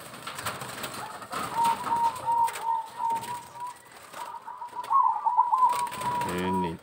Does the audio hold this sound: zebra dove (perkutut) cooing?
yes